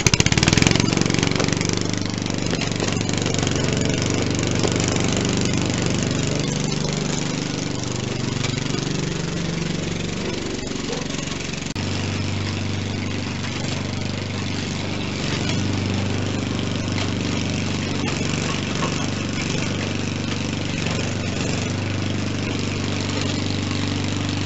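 An old lawn mower engine drones steadily while mowing weeds, a constant mid-pitched hum that shifts slightly in tone partway through.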